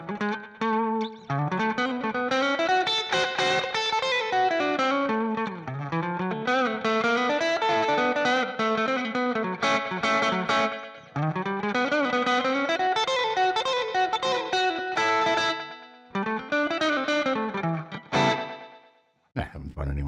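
An electric guitar is played solo during a live stream, a continuous run of fast melodic picking with effects and some distortion, close and fairly loud, ending with a brief pause and a final strum.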